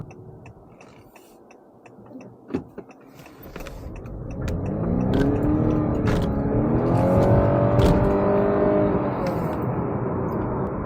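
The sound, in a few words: 2020 Honda Accord hybrid accelerating from a standing start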